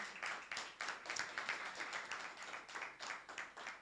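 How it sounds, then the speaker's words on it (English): A small audience claps for Team Foodwise at a youth hackathon, the hand claps sparse and distinctly separate, landing in a quick, uneven rhythm at low volume with no voices over them. "Let's do a huge round of applause to them."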